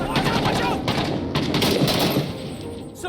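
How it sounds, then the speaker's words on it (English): Dense automatic gunfire in the Six Days in Fallujah military shooter set in the Iraq city battle, a loud sustained burst of rapid overlapping shots filling the whole stretch, close and heavy. "Suppressing fire!"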